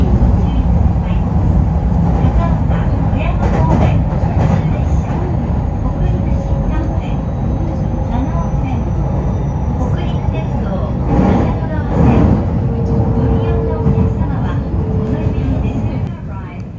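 Steady rumbling rattle of an IR Ishikawa Railway rapid train running, a continuous loud interior roar with rhythmic clatter throughout and no talk.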